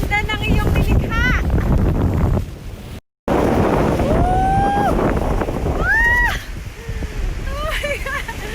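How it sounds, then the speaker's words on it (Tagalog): Strong gusty wind blasts across a skywalk in Shizuoka, Japan, roaring and buffeting the microphone in heavy bursts while a person exclaims and talks excitedly over it. "Grabe! Ang hangin!"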